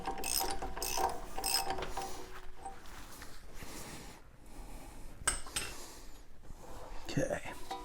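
Ratchet wrench clicking in quick bursts while snugging wheel hub bolts during a wheel bearing and hub replacement on a Mazda CX-9 or Ford Edge, close and fairly loud, with a pause and faint whispery speech between runs.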